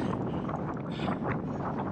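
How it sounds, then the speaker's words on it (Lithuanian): Steady headwind roars and buffets the microphone while cycling downhill, a continuous rushing noise with no pauses. "o čia tai vėjas. Nors miškas prieki matosi, bet vis tiek į veidą tai pučia."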